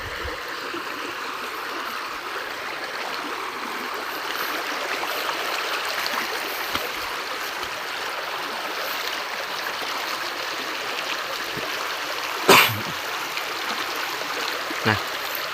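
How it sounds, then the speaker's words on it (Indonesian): A river stream flows steadily in Kampung Sinagar, a continuous broadband rush of water close by, with a couple of brief sharp knocks near the end. "Nah ini kondisi sungai yang ada di Kampung Sinagar."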